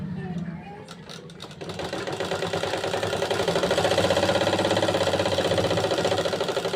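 A sewing machine runs a continuous stitch along the side seam of a nightie, its fast whirring hum building and holding steady at close range after a brief moment of quieter handling at the start, under a speaking voice.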